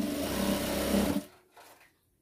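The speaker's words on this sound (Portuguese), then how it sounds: "Eu tô costurando aqui tudo com linha vermelha" A sewing machine stitches fabric scraps with red thread for a scrap-fabric Christmas tree, running loud and steady for about a second before stopping abruptly, leaving only faint handling noise.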